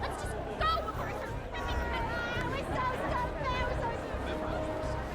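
Crowd chatter in the Hitman video game, a steady murmur of many voices forming an indistinct background babble, with a few clearer passing voices at moderate level.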